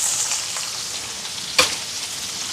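Curry leaves, onion and garlic sizzle steadily in a hot pan, a continuous close frying hiss with a couple of brief stirring clinks.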